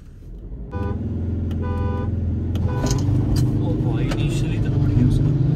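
Three short car horn honks signal the start of a drag race between a Ford Endeavour 3.2 and a Jeep Compass 2.0, with idling engines and talk running beneath and after the beeps.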